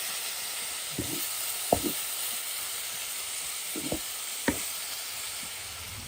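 Cabbage stir-fry with grated coconut cooking under a lid in a pan, a soft continuous sizzle with a few brief clinks and scrapes of stirring.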